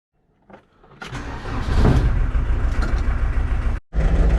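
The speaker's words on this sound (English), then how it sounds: "when I start the engine up now and come back down, that should stick out" The engine of a VW T3 Vanagon Syncro cranks and starts up close by. It rises into a loud, rough idle with a brief cutout near the end, then catches again.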